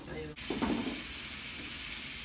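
Garlic and scallion dropped into hot olive oil in a home kitchen: after a brief cut in the sound, a sudden loud sizzle bursts up and settles into a steady bright frying hiss.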